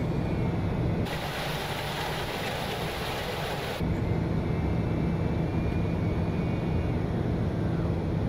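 Landing gear extends on a TBM 930 turboprop in X-Plane 11 on approach from Portland to Reno. A constant loud engine and wind roar fills the cabin, with an added rushing layer for a few seconds before it settles back.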